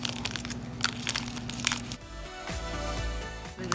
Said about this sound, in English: I have to fold the Twizzler because it doesn't fit in there long ways because it's so big.